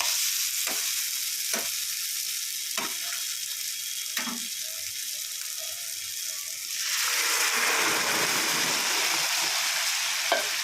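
Dal hits hot frying vegetables in a pan and bursts into a loud, steady hiss, preceded by a few sharp clicks and scrapes of stirring over a quieter sizzle.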